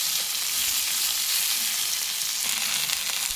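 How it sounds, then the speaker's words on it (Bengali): Fenugreek (methi) leaves lightly fried with black cumin in a pan give off a steady, soft hiss and sizzle throughout, with no one talking. "হালকা করে একটু ভেজে নেব মেথি শাকগুলোকে।"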